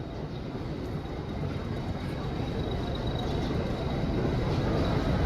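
Ooty toy train pulling out of Udhagamandalam station, a steady low rumble of wheels and carriages rolling continuously, fairly near and even throughout.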